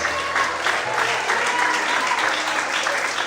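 A church congregation claps at a Pentecostal-style evening service, a continuous crowd of hands ringing out with a voice faintly mixed in underneath.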